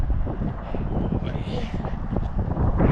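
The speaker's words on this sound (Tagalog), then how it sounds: "Uy, mahangin. It's windy." Steady gusty wind roars across the microphone, a broad rumbling rush that swells near the end, with no clear talk.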